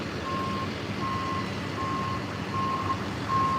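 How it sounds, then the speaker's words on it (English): A truck backing up on a utility pole work site sounds a steady series of five evenly spaced reversing beeps over a loud, continuous diesel engine rumble. "Back truck backing up, front truck getting close."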